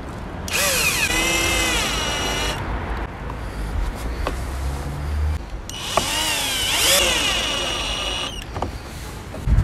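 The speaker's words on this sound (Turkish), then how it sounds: "Şarjlı matkapla." A cordless drill drives a screw while fitting an American-version accessory to a Mercedes-Benz, two long whining bursts with rising and falling pitch and a brief quiet gap between them, close and loud.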